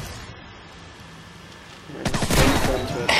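Burst of gunfire from the video game Call of Duty 4, starting quietly then erupting into loud, dense rapid shots with sharp cracks toward the end, no talk over it.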